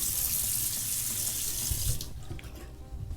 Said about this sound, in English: just taking some cold water here